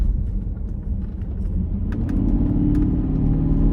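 A deep Porsche Cayenne GTS engine rumble idles steadily, then swells slightly louder and fuller partway through, a close, throaty engine running continuously.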